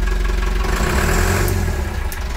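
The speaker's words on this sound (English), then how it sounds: "You hear that? That's in gear now." A narrowboat engine running steadily in gear, a continuous low rumble with a throbbing beat, close by and fairly loud.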